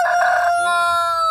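A kampung rooster crows loud and close, one full cock-a-doodle-doo with a strained rising opening and a long held tonal tail.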